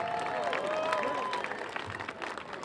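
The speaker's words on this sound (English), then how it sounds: "Let's give them a big round of applause." Audience applause at a neon sign revival event outside the Avenue Theater in Portola, a short burst of crowd clapping and cheering with voices mixed in, fairly loud and close.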